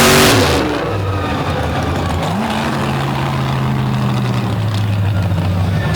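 A big-block monster truck engine on the Colossus truck revs at a monster truck championship finals, with a loud sustained roar whose pitch climbs and holds, and a burst of crowd or commentary noise at the start.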